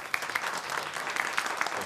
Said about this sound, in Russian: Ваш аплодисмент.